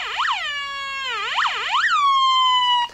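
A 1980 Fundimensions Sound Gizmo electronic toy produces a siren effect, its pitch swooping up and down in several rising-falling wails before settling into a held tone that cuts off, loud and close with no talk.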